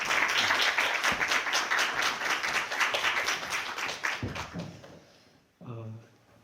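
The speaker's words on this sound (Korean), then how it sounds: "박수로 맞아주시기 바랍니다." An audience at a church forum claps steadily for several seconds, the applause gradually fading out, followed by a brief spoken voice.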